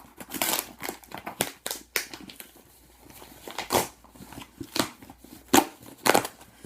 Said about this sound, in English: Nothing so satisfying as tearing into a box that has a book inside it.